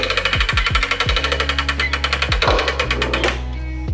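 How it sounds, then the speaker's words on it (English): Mast of a Kuzar K57 lift being cranked out: a rapid, even train of loud mechanical ratcheting clicks close by, stopping abruptly near the end. "So I'm paying attention as we crank this out."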